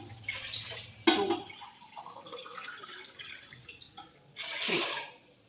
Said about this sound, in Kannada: ಹಾಗಾಗಿ 2 ಲೋಟಕ್ಕೆ ನಾನು 4 ಗ್ಲಾಸನ್ನು ನೀರು ಕೊಡ್ತೀನಿ.